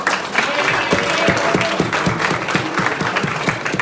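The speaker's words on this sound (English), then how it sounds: "Give him a big round of applause." Audience members at a general convention burst into loud, close applause, a thick patter of many hands with crisp individual claps standing out, continuing steadily throughout.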